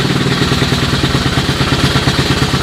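A 1986 Honda TRX125 ATV engine running just after a cold start with the choke on, a close, loud, fast and even putter with a clattery mechanical edge and no voices.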